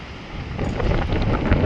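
Strong wind roars across the seashore near Sudarshan Setu bridge in Dwarka under a cloudy, rainy morning sky, a steady close buffeting rumble that grows louder and gustier halfway through.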